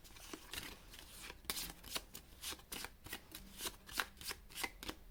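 Tarot de Marseille cards being shuffled close up, a steady run of crisp riffling flicks and snaps repeating through the whole stretch, with no voice over them.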